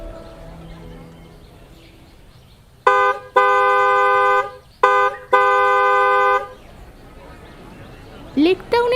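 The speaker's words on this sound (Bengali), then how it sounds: "কাছাকাছি আসতে বাসের বিশ্রী হর্নের আওয়াজটা" A bus horn blares loudly in long, flat honks. Each of the two main blasts follows a short tap, and a brief squeal and faint voices come at the end.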